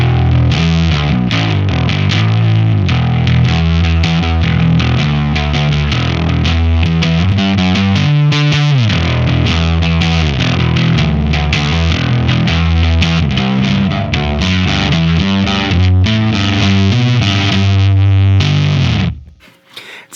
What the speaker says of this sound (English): my Fender Standard Jazz Bass plugged into the Bigfoot, going to the same amp, same settings